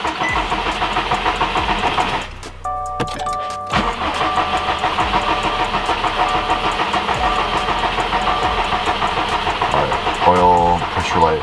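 A Subaru STI engine cranks briefly with a whirring starter, then catches and settles into a loud, steady rough idle that runs on at close range.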